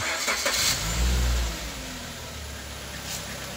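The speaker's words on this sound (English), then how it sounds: "we start the engine" A Suzuki Grand Vitara engine cranks and catches, a low rumbling burst that rises then settles into a steady idle, close by with no talking.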